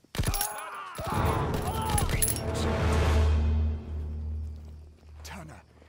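Gunshots fired at an officer in a wartime scene: a cluster of sharp cracks at the start, then a heavier blast that rumbles and fades over several seconds, with voices present.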